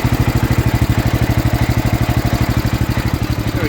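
A Gravely 816 garden tractor engine idles high with a fast, even, thumping pulse, loud and close, holding steady throughout with no voices.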